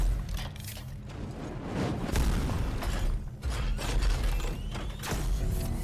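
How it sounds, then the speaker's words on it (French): Heavy booming explosions from the video game Hellpoint, a dense run of loud thuds and bursts with deep rumble, one blast after another across several seconds, with no talking over them. "Les explosions que ça fait quand même."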